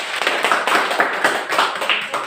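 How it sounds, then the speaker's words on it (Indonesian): Students clap for a group in a classroom: a short burst of dense, steady applause from many hands, fairly close and lasting about two seconds with no talking over it. "Tepuk tangan dulu untuk kelompok 3"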